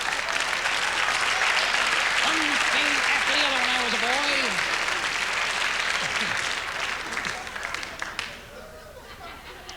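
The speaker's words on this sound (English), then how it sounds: "Thank you very much for applauding on that." A comedy club crowd breaks into sustained applause mixed with laughter while a comedian keeps talking over it; the clapping stays loud and dense before tapering off near the end.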